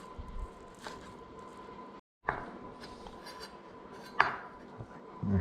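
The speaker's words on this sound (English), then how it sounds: "Slice that up in thin pieces" A knife slices red roast pork into thin pieces on a cutting board, with light scraping strokes and a few sharp taps against the board, close and quiet.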